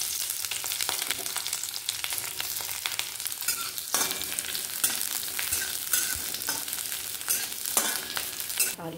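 Onion frying in a pan for a child's tiffin dish, a close, steady sizzle with crackles and occasional scraping stirs, no talking.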